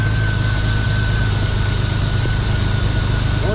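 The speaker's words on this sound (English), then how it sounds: "We're going to start the vehicle and see what happens" A vehicle engine idles steadily with a constant low rumble and an even mechanical hum, loud and close, with no change in pace.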